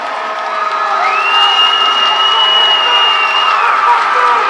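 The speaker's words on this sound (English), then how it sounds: "Their crowd's getting loud over there" Crowd at a 2011 high school football playoff game, LC versus Savannah Christian, roaring and cheering steadily from across the field with a high whistle rising over the sustained noise.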